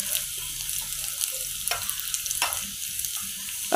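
Curry leaves fry in hot oil for a South Indian raw mango charu tempering, giving a low, continuous sizzle broken by a few sharper crackles and spits, close by with no talking.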